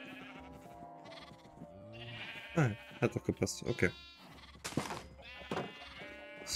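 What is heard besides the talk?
sheep bleating in the video game Minecraft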